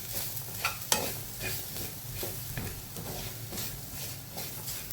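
Red chilli powder and garam masala sautéing in a pan for a sprouted moth bean dish, a soft, steady sizzle with scraping stirs and a few sharper clinks, fairly quiet and close.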